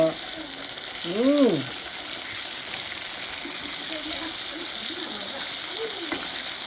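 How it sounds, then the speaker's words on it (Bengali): Fish frying in a home kitchen pan, a continuous soft sizzle under a child's brief high-pitched voice and a few faint murmurs. "তোমার জন্য মাছ ভাজা করছি"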